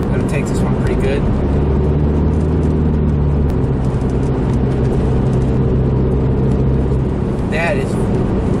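A 2004 PT Cruiser GT is driven hard through corners. The engine drones steadily and swells at times, with a voice talking over it throughout.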